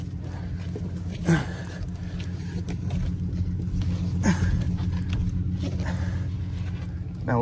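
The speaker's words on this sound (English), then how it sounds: "Go ahead and roll the car into position here." A car rolls slowly onto a rollback tow truck with a manual wheel lift, a low steady rumble with occasional creaks and knocks from the bed and tires, no talking.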